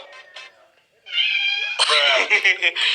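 A cat meows a few times, first softly, then in louder, drawn-out cries, close by.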